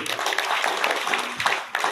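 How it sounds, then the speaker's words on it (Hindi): Crowd at a cow-service ashram gathering claps for the staff, a short burst of dense, steady applause mixed with voices. "उनके लिए ताली बजना चाहिए"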